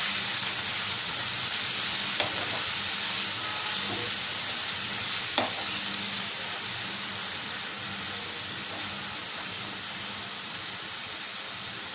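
Fenugreek leaves frying in oil with onions in a pan for a tomato methi curry: a steady, even sizzle throughout, with a few faint stirring taps and scrapes.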